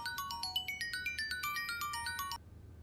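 Melodic mobile phone ringtone chiming a quick run of bright electronic notes for about two and a half seconds before cutting off, with nothing else heard.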